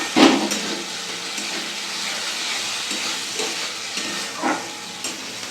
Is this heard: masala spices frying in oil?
yes